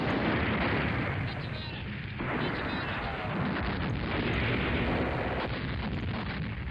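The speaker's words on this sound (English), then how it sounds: "Let's go with another airstrike." Airstrike explosions in the war game Command Ops 2, heavy booming blasts rolling together into a dense, continuous rumble, loud and sustained with brief dips between impacts.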